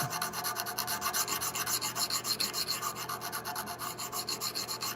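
A hand file rasps back and forth across a lock plate held in a vise, cleaning off casting parting lines with a steady rhythm of repeated close scraping strokes and no voices.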